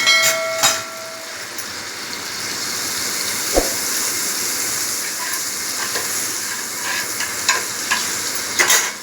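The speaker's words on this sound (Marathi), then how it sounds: "गॅसवर मी पॅन ठेवला आहे, त्याच्यामध्ये" A chapati sandwich fries in melted butter in a pan on a gas stove, giving a steady, fairly loud sizzle with a few faint clicks and taps of handling over it.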